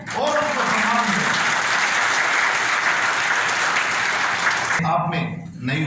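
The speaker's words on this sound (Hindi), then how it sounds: "दोनों हाथ उठाकर मेरे पूरे भारत के इन सशक्त कारीगरों के मान सम्मान में तालियां बजाएं" Dense, loud applause from a large audience honouring artisans at an Indian tool-kit distribution ceremony, sustained for nearly five seconds before it cuts off and a voice begins speaking.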